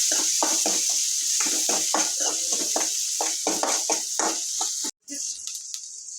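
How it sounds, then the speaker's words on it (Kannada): Onions fry with mustard seeds in a pan under a constant bright hiss, broken by quick rhythmic bursts of stirring and scraping. A brief dropout near the end is followed by a quieter sizzle. "ಉಳ್ಳಾಗಡ್ಡೆ ಹಾಕ್ತೀನಿ ಅದು ಹೇಗೆ ಚೆನ್ನಾಗಿ ಫ್ರೈ ಮಾಡ್ಬೇಕು"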